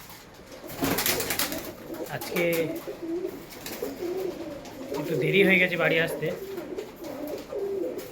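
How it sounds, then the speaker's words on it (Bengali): Pigeons coo repeatedly at close range while being fed at night, their soft throaty calls mixed with someone talking over them throughout. "পায়রাগুলোকে এখন রাত্রে খেতে দিচ্ছি"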